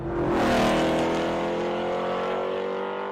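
A car with an LS V8 engine roars in one steady, loud, deep revving drone that swells early and then holds at high revs, aggressive and close, with no voices.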